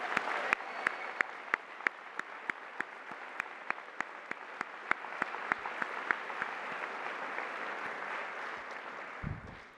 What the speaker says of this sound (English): Let us also offer a round of applause